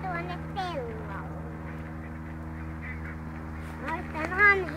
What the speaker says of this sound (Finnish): Tuolla ne taitaa ne hanhet odottaa meitä.